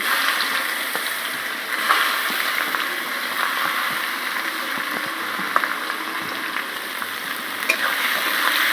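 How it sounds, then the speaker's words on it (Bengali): Chopped onion dropped into hot oil with cumin and cardamom for a home-style mutton curry, giving a steady broadband sizzle and crackle close by with a few sharper pops, no talking. "যে পেঁয়াজ কুচিটা করে রেখেছিলাম সেটা তেলের উপর ছেড়ে দেবো"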